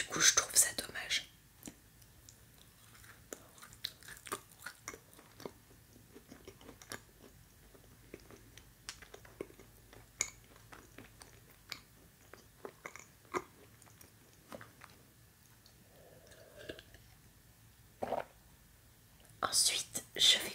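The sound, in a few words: whispered chewing of a mouse-shaped pastry with almond paste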